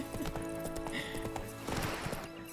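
In The Witcher 3, a horse gallops with quick, close clip-clopping hoofbeats over game ambience, with a brief whinny-like sound and faint talk in the background.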